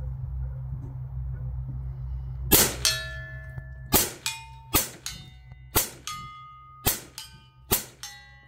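Rifle rounds from a Steyr Pro X strike steel targets on a range, seven sharp metallic clangs that ring out and decay, spaced about a second apart over a low steady hum, with no talk.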